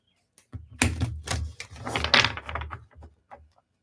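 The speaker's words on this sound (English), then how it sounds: "All right, so I have my oracle deck here. I'm just going to shuffle" Rapid papery flicking and riffling of an oracle card deck being shuffled, several quick bursts close by with no one speaking.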